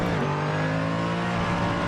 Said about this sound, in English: you can also hear the actual car as well